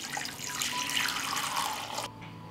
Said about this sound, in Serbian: i sipat ću u šerpu toplu vodu.